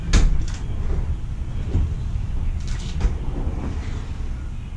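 Drawers of a homemade wooden tool storage cabinet slide open and shut, giving a few soft scraping and knocking sounds close by in a quiet room.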